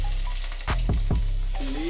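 Onion dropped into a hot pan with egg for Maggi curry goreng, a few loud thumps and clatters followed by a low steady sizzle, close.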